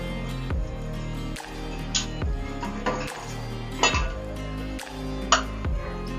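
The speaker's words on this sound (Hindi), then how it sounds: "अब मैं इसको डिश आउट कर लूंगी।" Aloo gosht being dished out, with utensils clinking and scraping against dishes in a repeated rhythm of sharp metallic knocks, close and clear, no talking.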